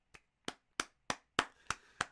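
Seven slow, evenly spaced hand claps from a single person, sharp and close, sounding sparse and a little awkward rather than like full applause.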